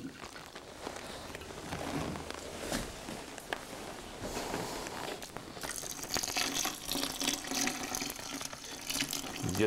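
Home-brewed all-grain wort is poured gently back over the mash grain, a steady running, splashing stream of liquid that grows fuller toward the end, with light handling noises.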